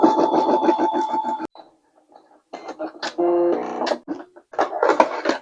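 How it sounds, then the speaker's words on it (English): An embroidery machine sews a tack-down stitch on a bag tag in quick rhythmic needle pulses, stopping briefly and then starting again, close and moderately loud; no speech is heard. "I'm gonna go ahead and do another tack down stitch"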